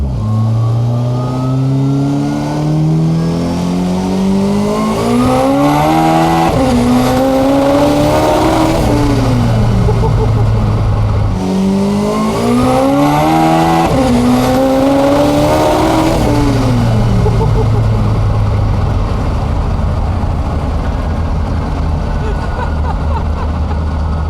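A 1300-horsepower SR20-powered Nissan 240sx screams up through the gears to about 10,500 RPM on a street, two loud, close full-throttle pulls with rising pitch and sharp shifts, a steady idle drone between them.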